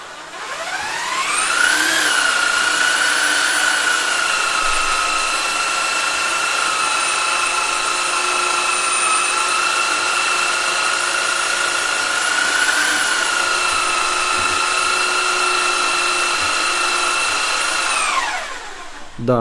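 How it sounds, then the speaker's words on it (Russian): A mains-powered electric drill spinning a homemade generator winds up to a loud, steady high-pitched whir, holds its speed with slight wavering, then spins down near the end. "сейчас попробую покрутить дрелью от сети. Оно будет мощнее"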